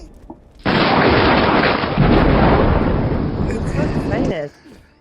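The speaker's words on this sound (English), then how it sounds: "Lightning." A loud, sustained roaring rumble of thunder with a crackling lightning-strike onset, lasting about four seconds before cutting off, dropped in as a sound effect between stretches of talk.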